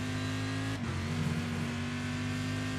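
An IMSA GTP prototype race car engine in iRacing at Watkins Glen roars loud and steady, with a quick throttle blip near the start before it keeps droning at high revs.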